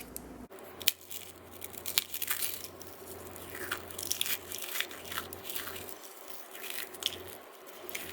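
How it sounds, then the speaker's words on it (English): Unchewed crackers are smashed into little bits for a starch digestion experiment, giving a busy stream of close, dry crunching and crackling with sharp snaps scattered throughout. "let's take our unchewed crackers and smash them up into little bits"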